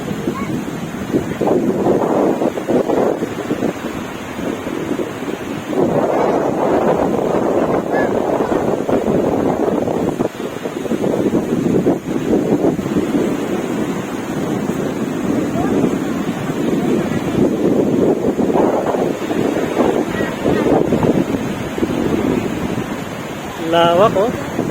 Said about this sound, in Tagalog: andito na kami sa dagat.